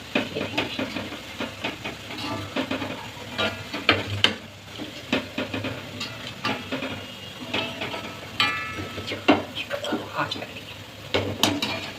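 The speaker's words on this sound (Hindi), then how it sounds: "ये देखिए बस मैं इसको डिश आउट करती हूँ" Metal utensils clatter and scrape in a wok while fried pakoras for kadhi pakora are dished out of hot oil. Steady sizzling runs underneath, with someone talking over the clinks.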